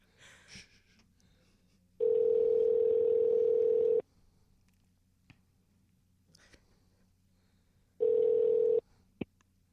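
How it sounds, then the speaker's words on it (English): Telephone ringback tone heard while placing a call, two long steady electronic rings separated by a pause of quiet line noise. "It's ringing."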